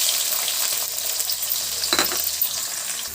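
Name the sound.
onions frying in a pan with cumin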